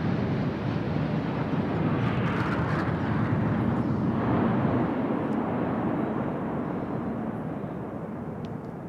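Indian Air Force jets in the Eklavya formation make a Republic Day flypast at low altitude and high speed, a broad roaring rush that swells and slowly fades, with no voices.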